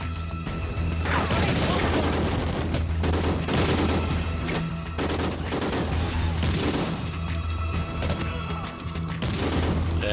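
Gunfire in the shooter game Call of Duty: Ghosts, loud rapid bursts of automatic shots and heavy impacts repeating almost nonstop, up close, with low rumbling beneath and no talk.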